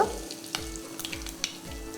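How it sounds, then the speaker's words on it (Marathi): Mustard seeds and asafoetida sizzling in a spoonful of hot oil in a wok, a bright close sizzle with quick popping crackles throughout, no voices. "कढईमध्ये चमचाभर तेल तापवलं आहे तेल तापलं यामध्ये घालू मोहरी पाव चमचा हिंग"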